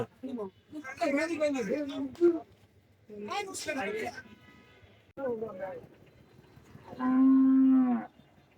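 Cattle low and moo at a busy cattle market in Manikganj, with a loud, sustained moo near the end rising over nearby chatter and crowd talk.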